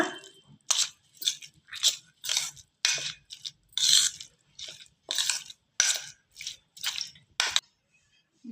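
A spoon stirs curd poha in a bowl, making a close, steady series of about a dozen short, moist scraping strokes in an even rhythm with no voices.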